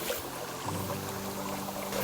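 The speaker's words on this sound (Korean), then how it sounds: "아, 이렇게 물소리 듣고 그러니까 난 참 좋네요." Water trickles and flows steadily in a natural stream, a soft continuous wash heard up close with no talking.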